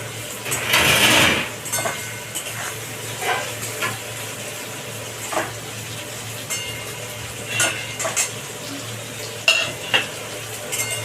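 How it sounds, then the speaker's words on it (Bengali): Chopped onions sizzle in a pan on a home kitchen stove, with a steady close frying hiss broken by repeated scraping and clinking strokes of a stirring spoon. "এবার আমি পেঁয়াজগুলোকে ভেজে নেবো ভালো।"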